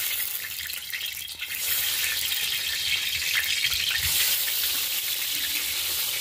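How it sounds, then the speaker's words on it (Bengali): Pointed gourd (potol) rubbed with salt and turmeric sizzles in hot oil, a dense, steady hiss that swells louder after a brief dip and carries on close and continuous with no talk. "পটলগুলোকে ভালো করে ভেজে নিতে হবে।"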